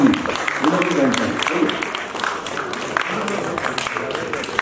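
An award ceremony audience at a theater festival applauds as honorees are called up. Dense, continuous clapping fills the hall at a moderate distance, mixed with crowd chatter and a voice over the sound system.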